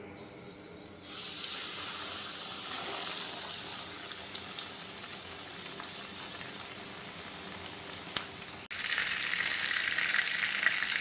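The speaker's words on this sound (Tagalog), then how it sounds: "mainit na rin po itong kawali natin na may mantika ilulubog na nga po natin siya dyan" Breaded chicken katsu deep-fries in a pan of hot oil, a steady loud sizzle and crackle running throughout with a few sharp pops, briefly dipping before the frying roars back.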